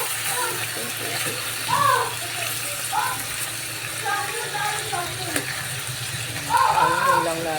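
Water is poured from a tap into a container while cooking, a steady splashing trickle with a few clinks and rattles, and voices, including a child's, talking over it.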